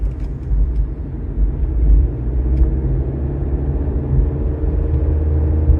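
Turbocharged Honda car climbing a big hill under throttle, with a steady low engine rumble and road drone heard from inside the car, loud and continuous.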